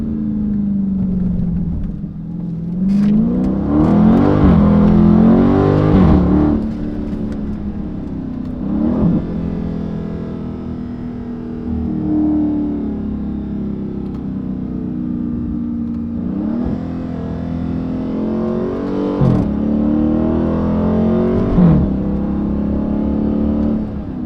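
Dodge Charger Daytona 392 engine whining and revving up in surges, loud and close inside the car, with no talk.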